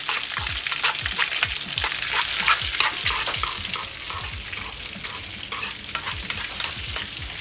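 A whole mangrove snapper fries in hot oil, giving a steady, close, crackling sizzle with small pops and spatters throughout and no voices.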